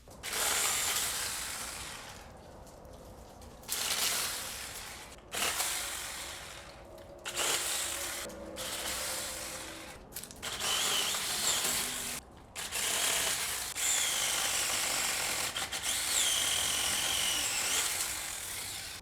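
A cordless 6-inch mini electric chainsaw cuts through wood in loud, sustained, high-pitched bursts, each broken by short pauses, up close and with no voices.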